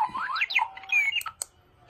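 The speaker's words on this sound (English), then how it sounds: "that is the Clocky, the alarm clock that runs away" A Clocky runaway alarm clock lets out a rapid series of chirpy, warbling electronic beeps that sweep up and down in pitch, loud and close, then cut off with a few clicks.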